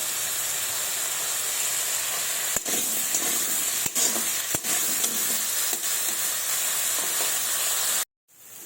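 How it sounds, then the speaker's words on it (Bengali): Potatoes and bottle gourd fry in a pan in a loud, continuous hiss of sizzling oil, broken by a few sharp utensil clicks, before the sound cuts out abruptly at the end. "আমি লাল লাল করে এগুলো একটু ভেজে নেব।"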